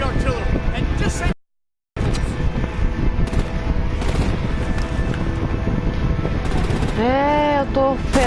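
Bursts of artillery and gunfire boom and rattle in the Batman: The Enemy Within game, loud and continuous with a brief silent gap, mixed with wind-like rumble and voices talking.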